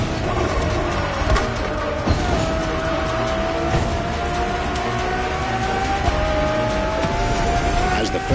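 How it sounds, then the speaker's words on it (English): Ferrari Enzo supercar in The Crew Motorfest, a sustained engine drone rising steadily in pitch under continuous road and tire noise, close and loud throughout with a narrating voice over it. "Ferrari Enzo, fourth in the supercar bloodline, was just like her sisters before her, born from a strong desire to push supercars even further."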